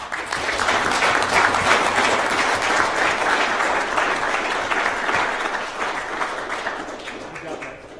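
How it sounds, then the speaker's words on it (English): A round of applause fills a city council meeting room, dense steady clapping from many hands that holds strong for several seconds and then gradually tapers off. "Let's give you all another round of applause."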